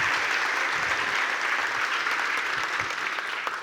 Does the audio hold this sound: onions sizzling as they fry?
no